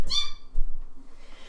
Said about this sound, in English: No, I sneezed.